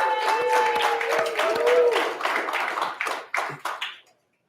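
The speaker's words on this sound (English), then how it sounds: "A round of applause for my buddy, Abe Abdul." Audience applause for a dental society incoming president at a Boston event, moderately loud clapping lasting about three seconds, then tapering into scattered claps with talk and cheering mixed in before cutting off.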